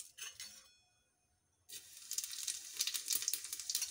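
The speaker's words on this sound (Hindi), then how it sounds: "जीरा को चटकने दें," Cumin seeds crackle and sizzle loudly in hot oil up close after a brief quiet pause, with a faint clink of a utensil.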